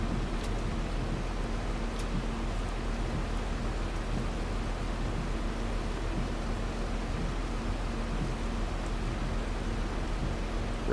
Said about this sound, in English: Rain should be coming to a halt here soon